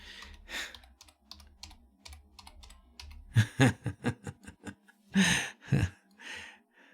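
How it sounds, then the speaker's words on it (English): Typing on a computer keyboard in a quiet room: sparse clicks at first, then a quick, close burst of sharp keystrokes and a few heavier key presses, with no speech. "Can you guys hear the keyboard and tell what I'm putting in for my new password?"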